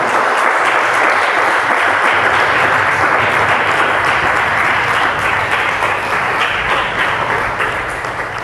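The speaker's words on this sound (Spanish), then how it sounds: "Alábele con sus palmas, hermanos." Loud, continuous hand clapping from a Spanish-speaking church congregation, a dense roar of many hands filling the room, steady and close for the whole stretch.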